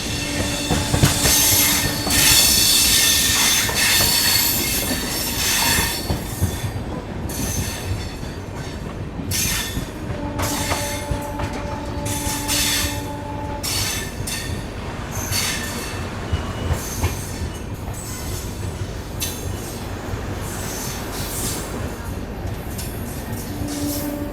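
Saurashtra Mail train of Indian Railways rolls into Padhari railway station, with a continuous loud rumble of wheels on track, rhythmic clatter and repeated metallic squeals from the carriages, and no talk.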